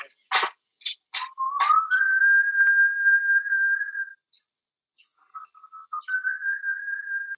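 Whistle signal in The Walking Dead video game: a few short chirpy whistles, then a long sustained tone, a pause, scattered soft blips, and another held whistle, clear and isolated.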